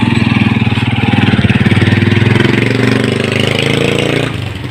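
Motorcycle engine running steadily up close with a regular pulsing idle, loud and continuous, then dropping off sharply near the end.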